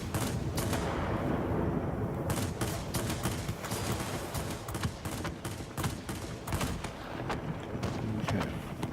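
Aircraft guns fire in rapid bursts in a World of Warplanes air battle, sharp repeated cracks stacking into dense volleys over a constant roaring engine drone, loud and close throughout.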